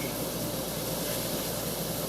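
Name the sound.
steaming food with water and steam to melt cheese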